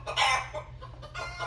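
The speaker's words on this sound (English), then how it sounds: "now there's chickens running around in the background" Chickens cluck and cackle in short, close bursts over a low, steady hum, a few quick calls spaced across the moment.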